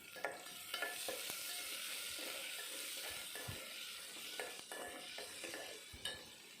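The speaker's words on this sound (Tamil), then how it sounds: "வெங்காயம் நல்லா வதங்கணும்." Chopped large onions sizzle and hiss in hot oil for a potato curry while a utensil stirs and scrapes the pan with occasional clinks, close up.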